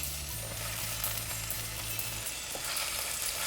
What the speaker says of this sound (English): Now to the same oil, I'm going to add about 4 green chilies, finely chopped ginger and garlic